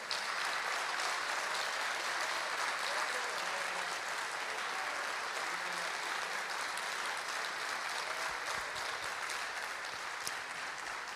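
Steady, dense applause from a church congregation during a sermon on facing hard times, holding at an even loudness throughout with no speech over it.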